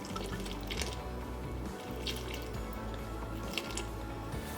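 Cold water pours into sandwich-loaf bread dough in a steady, close, wet trickle with small splashy drips, no voices.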